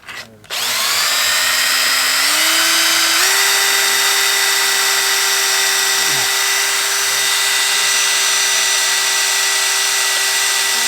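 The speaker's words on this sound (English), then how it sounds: "I'm literally drilling here where it says" A power drill whines loudly and continuously, its pitch stepping up as it bites into the metal casing during a Vauxhall Astra VXR intercooler install, running for several seconds without pause.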